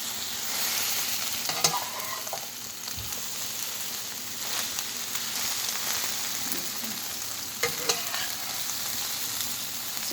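Scrambled egg with vegetables frying in a pan while being stirred, a steady close sizzle broken by occasional scrapes and clinks of the utensil, with no talking.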